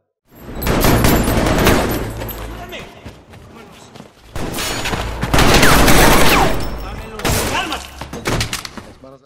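Gunfire during a film raid on a cartel tunnel: loud bursts of rapid shots and impacts in two heavy waves, with a short lull between, under narration.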